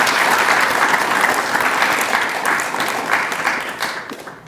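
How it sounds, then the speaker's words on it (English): Sustained applause from an audience at a university materials science department spring awards celebration, dense steady clapping throughout that thins slightly toward the end. "Let's give them a round of applause"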